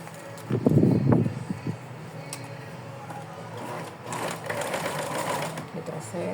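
A sewing machine stitches velcro onto a doll's dress in short bursts, a loud near whirring run at first and then softer stitching, with someone speaking quietly.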